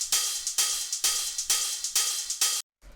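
Hi-hats synthesized from white noise in Ableton Operator for a techno track, a steady run of bright hissy hits with short decays, even and close, stopping abruptly near the end.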